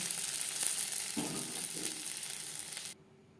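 Fish frying in hot oil for a crispy Bengali-style fish fry, a steady close sizzle and crackle running evenly for about three seconds before cutting off abruptly into near silence.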